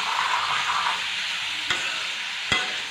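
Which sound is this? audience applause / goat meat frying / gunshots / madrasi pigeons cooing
goat meat frying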